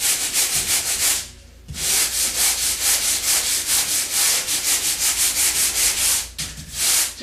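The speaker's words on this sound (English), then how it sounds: "Okay, so now I'm going to sand that" Drywall quickset patch being hand sanded with brisk back-and-forth strokes, a steady rhythmic rasping scrape close up that stops once briefly near the start and again near the end.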